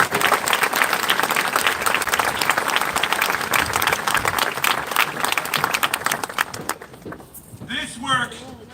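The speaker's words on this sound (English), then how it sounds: "let's give them a nice round of applause" Loud, sustained applause from a large crowd at a graduation ceremony, steady for several seconds before thinning out, with a voice starting to speak at the end.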